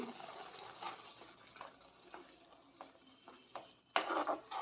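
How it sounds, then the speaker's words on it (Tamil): Soft scraping and stirring of melting jaggery in a pan for amla gulkand, with intermittent spoon clinks against the metal and a louder clatter near the end. "இந்த உருகின தண்ணியெல்லாம் நல்லா கெட்டியாகிற வரைக்கும் நாம் இது நல்லா கிளறி கொடுத்துட்டே இருக்கணும்"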